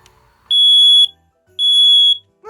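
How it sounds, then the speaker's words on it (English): A smoke alarm in a camper van gives two loud, piercing high beeps during a test, each about half a second long, with a brief gap between them. "Fire alarm, let's test that."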